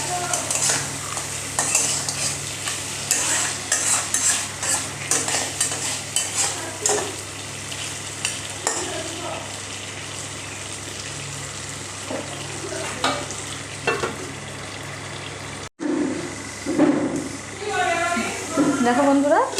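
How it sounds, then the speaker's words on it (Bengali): Crab masala sautés in a pan with a constant close sizzle, broken by repeated scraping and clinking strokes of a spoon against the metal. After a brief cut, the sizzle returns louder. "আমি আবার কি করছি, মশলাটাকে সুন্দর করে কষছি।"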